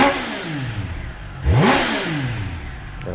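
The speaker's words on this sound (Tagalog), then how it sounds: "Sigaw ng triple, in-stock exhaust pa rin ko sa inyo." A stock-exhaust 2026 Triumph Trident 800 triple-cylinder engine blips sharply, its revs climbing hard and falling back before settling into a loud, throbbing idle close by, with no talking.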